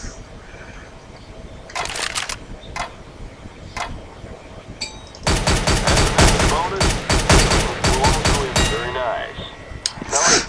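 Rapid bursts of gunfire in Counter-Strike: Global Offensive on a weapons course, a few scattered single shots first, then loud sustained automatic fire with sharp repeated cracks, close and dominant.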